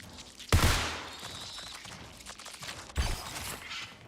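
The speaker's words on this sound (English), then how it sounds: "I heard gunfire" Two sharp gunshot bursts in the video game Marathon, about two seconds apart, each trailing off into a rumbling echo, with no voices.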